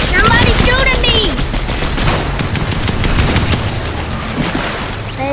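Rapid bursts of gunfire in a Fortnite match, loud and close, with dense automatic shots through the first half that thin toward the end, over a low rumbling game background.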